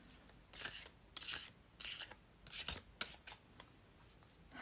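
A deck of cards is shuffled in quick, repeated riffling bursts, soft and close, with short gaps between each shuffle.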